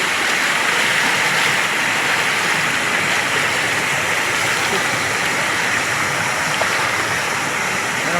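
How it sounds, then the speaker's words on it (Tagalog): Loud, steady rushing of fast-moving flood water flowing past houses, a continuous broad roar filling the whole clip without letting up. "ang kusog ng tubig niya"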